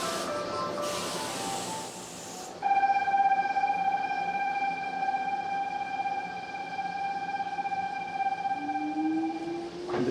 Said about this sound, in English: And the train just pulled out